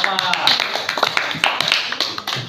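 Elementary classroom of fourth-grade students clapping for a classmate, a close, scattered burst of claps mixed with children's voices and chatter.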